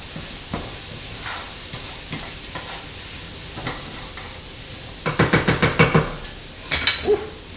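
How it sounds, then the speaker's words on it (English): Celery sizzles in a frying pan, a soft continuous hiss broken by several sharp bursts of stirring and crackle toward the end, close and moderately loud with no talking. "Ooh, I can hear the sizzling over here."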